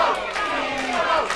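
An arena crowd at a professional wrestling match roars and cheers in a dense, continuous wall of voices, loud and sustained with rising shouts throughout.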